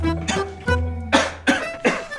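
Five short, harsh coughs in a Hindi Dabur Honitus cough syrup commercial, spaced roughly evenly over two seconds, close and fairly loud over a low steady background hum.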